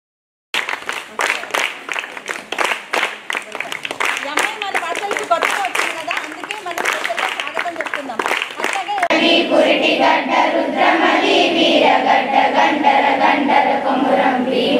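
Hands clap crisply and rhythmically at a school's new academic year opening ceremony to welcome schoolchildren, then swell into denser, continuous applause from the gathered crowd.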